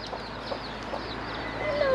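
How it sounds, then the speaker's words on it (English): Chickens and baby chicks cluck softly in short bursts on Hawaii's Big Island, with faint peeping and a low background murmur. "Wow, chickens."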